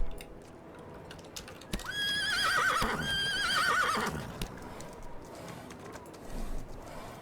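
A horse in the Roblox Wild West game lets out a single drawn-out whinny partway through, set against a quiet low background hum with no talking.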